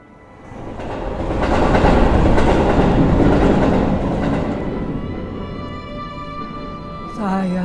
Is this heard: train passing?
yes